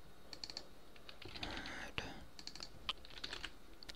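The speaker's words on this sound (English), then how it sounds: "once I type this, I'll continue talking" Quiet, close typing on a computer keyboard produces scattered, irregular key clicks in short bursts, with a faint soft murmur in the background.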